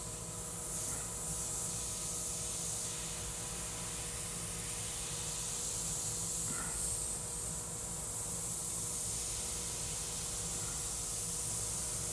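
A steady, soft hiss of an airbrush spraying paint, fed by an air compressor, continuing evenly throughout with slight swells and no talk.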